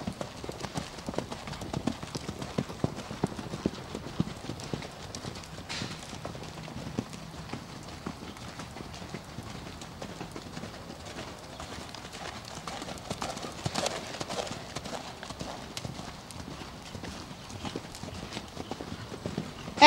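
Horses canter around a riding arena, a steady stream of dull rhythmic hoofbeats on soft footing, moderately near and continuous, with occasional voices in the background.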